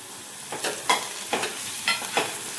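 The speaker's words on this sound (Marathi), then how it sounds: "त्याच्यामध्ये लसूण ठेचून घेतलेला टाकून घेऊ, हे पण परतून घ्यायचं आहे" Crushed garlic sautéing in oil with green chillies, stirred in a steady rhythm: five or six distinct scraping, sizzling strokes rise over a soft background fry, close and clear, with no voices.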